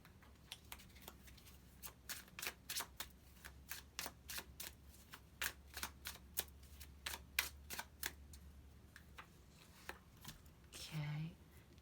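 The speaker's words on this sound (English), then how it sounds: "Let's draw a card for some clarification on that." Tarot cards are shuffled in a quiet room before one is drawn, a series of soft, crisp riffles and taps in an irregular rhythm, close and faint, with a brief voice near the end.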